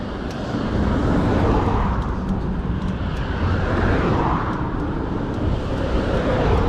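Trucks passing on a rural road in the Gig Harbor and Port Orchard area, heard during a bicycle century ride, as a steady loud rushing roar of tires and engines, with wind noise and no talk.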